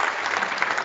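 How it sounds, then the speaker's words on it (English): An audience claps in a short, dense burst of applause, close and even throughout. "That deserves a round of applause as well."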